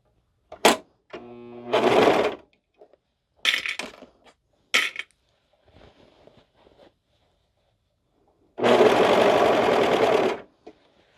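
A sewing machine stitches cardigan fabric in several separate runs: a few short bursts early on, then one longer steady run near the end, each starting and stopping cleanly with quiet gaps between.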